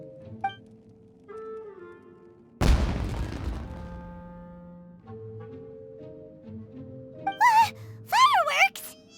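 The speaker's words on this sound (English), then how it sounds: "It sounded like fireworks" In Genshin Impact, a single sharp firework blast bursts out and decays over about a second, against soft game music, followed later by high, swooping voice-like cries.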